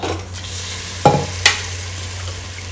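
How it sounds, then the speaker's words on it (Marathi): Cooked mutton tipped into a pan of masala for a village-style mutton rassa, two short thuds and scrapes of stirring over a steady low hiss close by, no talk. "आता यामध्ये आपलं शिजवलेलं मटण टाकून घ्यायचं"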